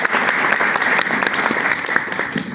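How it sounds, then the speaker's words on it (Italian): An audience at a Sicilian pastry chef's presentation in Macedonia applauds loudly and steadily, a dense close wash of clapping from start to finish. "che è un applauso"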